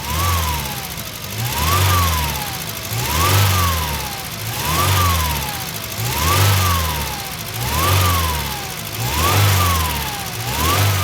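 The engine of a 1987 Volkswagen Gacel GL runs steadily up close, swelling and easing in a slow, regular cycle of revs with a faint repeating whine over the mechanical hum.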